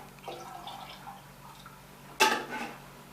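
Liquid poured into a resin reservoir gives a short, close splash and trickle that rises sharply near the end, after a few quiet handling sounds.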